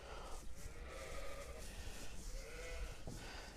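A ewe in the middle of lambing bleats on a farm, a couple of drawn-out calls heard over a steady rumble of background noise, fairly faint and not right up close.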